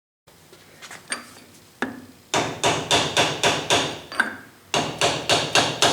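Hammer tapping roll or dowel pins out of a brittle cast iron part, a few scattered single blows followed by two quick runs of sharp, evenly spaced metallic strikes, close and loud.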